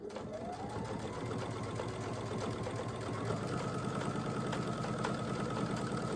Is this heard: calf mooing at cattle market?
no